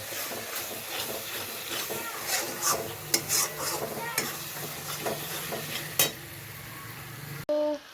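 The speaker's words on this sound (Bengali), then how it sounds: "মশলাটাকে ভালো করে কষাবো" Spices are stir-fried in oil in a pan, with a steady sizzle broken by scraping stirs and a few sharp clanks of the spatula, and a voice talks briefly at the end.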